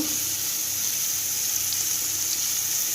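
Continuous even sizzle of onions frying in oil, a dense hiss that stays level throughout.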